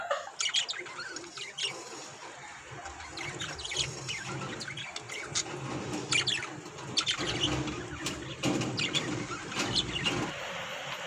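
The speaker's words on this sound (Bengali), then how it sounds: "আর একটা ঘরে পাখিগুলো প্রচন্ড চিৎকার করছে" Pet birds calling loudly from another room indoors, a busy stream of sharp chirps and squawks with occasional flapping, somewhat distant and continuous throughout.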